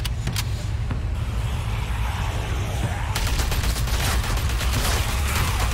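Rapid gunfire in The Walking Dead: A New Frontier video game, a dense, continuous burst of shots over loud rumbling game noise, growing brighter and heavier partway through.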